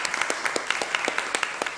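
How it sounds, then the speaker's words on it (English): Audience applause at an economics, business and management research conference after a presentation on using AI, a steady crowd clapping with sharp individual claps standing out, fairly close and sustained. "big applause for Father Hari Suwarwito showing us how we use the AI to help our work"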